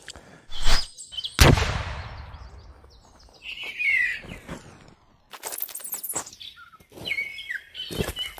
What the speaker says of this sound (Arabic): هذا أول عصفورتين اليوم.